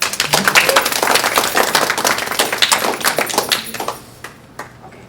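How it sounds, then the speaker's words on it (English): An audience applauds a speaker being introduced, a dense burst of hand clapping that starts loud and fills the room, then thins into a few scattered claps near the end. "So let's give him a round of applause."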